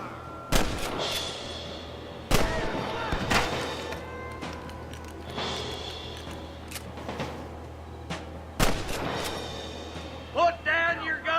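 Gunfire in a Red Dead Redemption shootout against a group of outlaws at a settlement: several sharp, loud shots crack out at irregular intervals, with lingering echo and ambient noise between them and a short burst of clatter at the end.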